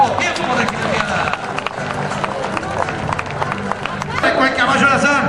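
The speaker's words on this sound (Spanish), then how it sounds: "Lo vamos a acompañar con un aplauso porque es bueno lo que estamos viendo" A rodeo crowd at a jineteada applauds and cheers, with steady clapping and a babble of voices. The clapping surges again near the end.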